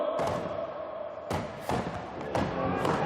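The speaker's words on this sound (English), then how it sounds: "You see big hard hits by these two young gentlemen" Axe blows striking chopping timber during a timbersports rookie race, several heavy thuds spaced about a second apart over a continuous crowd roar, with a voice calling out in the background.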